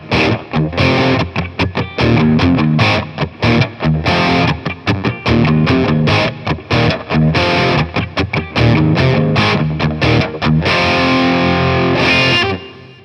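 A Gibson Les Paul Standard electric guitar plays through heavy distortion and effects, loud chugging riffs with sharp repeated chord stabs and short gaps, alone with no talk over it.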